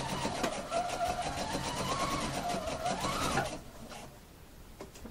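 A sewing machine stitches piping cord into a bias strip, a steady fast mechanical whirr with rhythmic needle ticking that runs for several seconds then stops, leaving quieter handling noise.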